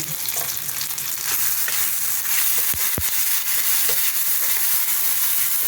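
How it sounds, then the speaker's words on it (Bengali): A paste of ground mint leaves, coriander leaves and green chili sizzles and fries steadily in a hot pan, with a few louder stirring scrapes partway through and no voices. "এই পেস্টটা দিয়ে দিলাম সব, দিয়ে ভালো করে আমি এখন কষিয়ে নিই।"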